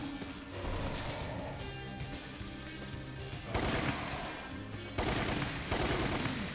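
Shotgun blasts in Resident Evil: The Umbrella Chronicles, heavy booming shots over a dense game soundtrack, with two loud blasts standing out a couple of seconds apart.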